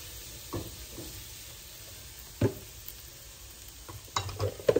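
Ground meat cooking in a pan for a healthy home meal, with a faint sizzle beneath scattered scrapes and knocks of a spoon stirring, the clinks louder toward the end.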